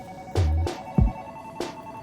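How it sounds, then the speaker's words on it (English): A telephone rings in short bursts, with a low thump between them and a steady tone underneath. The rings are moderately loud and no one speaks. "The phone is ringing."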